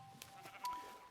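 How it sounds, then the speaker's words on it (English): A sheep bleats in a Minecraft-style block game, a short nasal call from a farm animal heard over a steady background bed with a brief sharp blip just before it. "one of those sheep accidentally got stuck in the block"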